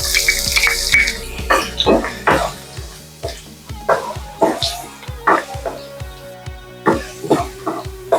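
Ginger and garlic sizzling in hot coconut oil in a pan, a close steady crackle broken by repeated sharp knocks and clatter, with a dog barking nearby and a voice speaking briefly.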